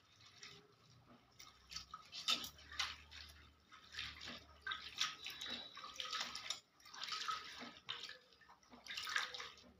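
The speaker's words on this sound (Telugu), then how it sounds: "కొత్తిమీర అయితే శుభ్రంగా కడగాలండి. ఇందులో మట్టి అంతా కూడా శుభ్రంగా కడగాలి." Soft splashing and sloshing as fresh coriander leaves are rinsed in water to wash off soil, with irregular faint swishes and drips, close but quiet.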